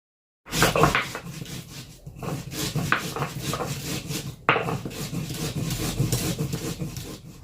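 Spices are ground by hand on a stone, giving repeated rough scraping and rubbing strokes with occasional knocks, close and moderately loud, with no talking.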